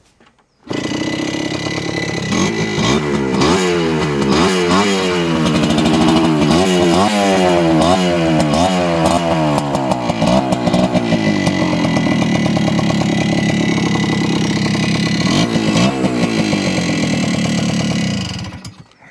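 A small Yamaha motorcycle engine runs steadily at close range, a loud buzzy rattle with several revving surges early on, then settles into a constant idle before cutting out.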